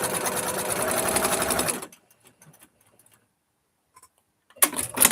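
A sewing machine runs in a steady, loud stitching burst for about two seconds, then stops, leaving near silence with faint small clicks before the motor whirs up again briefly at the end.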